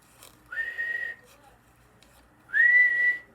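Two short, shrill whistle blasts, each rising slightly in pitch, sound close by with a quiet pause between them.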